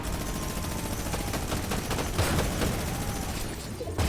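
Dense video-game gunfire from Fortnite crackles in a continuous, moderately quiet fusillade with no talking.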